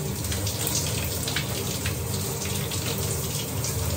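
Shower water running steadily and close, a continuous hiss and spatter of spray with no talking.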